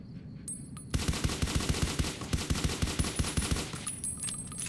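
A rapid burst of automatic gunfire in Fallout: New Vegas, starting abruptly and continuing for several seconds as evenly spaced, loud, close shots with no talking.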